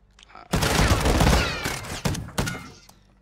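Gunfire in Modern Warfare 2: a sharp shot bursts into a loud, sustained volley, followed by two more distinct close cracks as the noise tails off.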